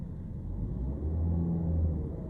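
A manual car pulls away slowly at the clutch biting point, its engine a low, close rumble that rises slightly in pitch and strength as the car moves.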